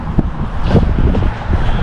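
Wind buffets the microphone with a loud, continuous low rumble and occasional gusty thumps.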